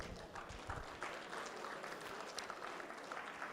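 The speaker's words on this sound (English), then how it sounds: "They deserve this thunderous round of applause" A lecture audience breaks into steady, dense applause, a broad wash of clapping from many hands heard at a moderate distance with no talk over it.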